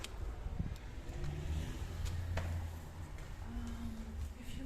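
Outside a centuries-old little church on Bar Street in Kato Paphos, passing cars make a low, faint, continuous traffic rumble with a mild swell midway, heard at a distance.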